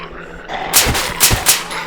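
Pistol shots ring out in the zombie survival game Survive the Nights: about four sharp, loud cracks in quick, uneven succession over a low background hum.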